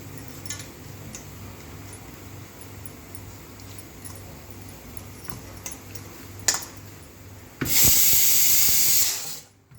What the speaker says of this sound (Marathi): कुकरच्या दोन शिट्या झाल्या